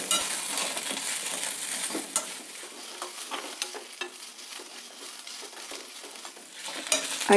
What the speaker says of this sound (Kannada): ಹುರಿದಿದ್ದೆಲ್ಲ ಚೆನ್ನಾಗಿ ಫ್ರೈ ಆಗಿದೆ ಈರುಳ್ಳಿ ಬೆಳ್ಳುಳ್ಳಿ ಮತ್ತು ಒಣಮೆಣಸಿನ್ಕಾಯಿ ಎಲ್ಲ